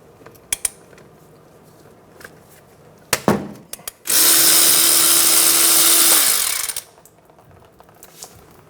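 Power tool spinning out a 14mm brake caliper bolt on a 2014-2019 Toyota Highlander, a loud two-second whir that winds down, preceded by a few close metallic clinks.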